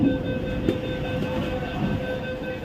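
Kolkata's underwater metro train running beneath the Ganges, a steady close rumble of the carriage with a constant electrical hum and a few soft clunks from the wheels, with no talking.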